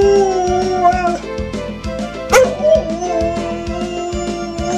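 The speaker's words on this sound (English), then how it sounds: "Can you howl for her?" A dog howls repeatedly next to a crying baby, drawn-out wavering howls close and loud, interrupted by short yips.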